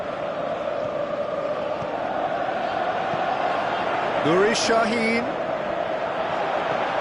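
A virtual stadium crowd in PES 2018 keeps up a steady, dense roar throughout a football match, with a commentator's voice briefly speaking over it.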